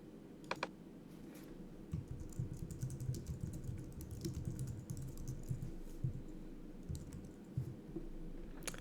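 Typing on a computer keyboard to enter a discount amount in business software, a steady run of quick, light key clicks close by, with no one talking.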